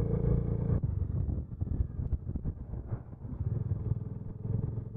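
A motorcycle rumbles steadily along a mountain road in Arunachal Pradesh, its engine drone loud and continuous with wind buffeting the microphone, and no voices.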